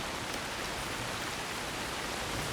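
Rain pattering steadily on surfaces in the game Assassin's Creed Shadows, a dense, even hiss of drops without pause, fairly faint and with no talk over it.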